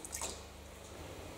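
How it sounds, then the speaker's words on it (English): Water poured into a pot for curry sauce, giving a steady close gurgling splash with a brief brighter spatter at the start, heard alone. "The next job is to add 2 litres of water."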